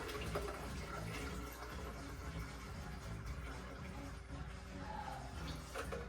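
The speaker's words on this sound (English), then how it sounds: "so you fill your jug with water" Water runs steadily into a jug for making cashew plant milk, a soft continuous rushing pour, fairly faint and unbroken, with no talking over it.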